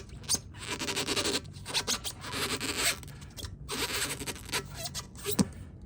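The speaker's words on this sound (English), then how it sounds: "Will the Garberg cut the tire?" Mora Garberg Carbon knife slicing into a rubber tire, giving repeated close scraping, rasping cuts in uneven bursts with short pauses between strokes, no talking.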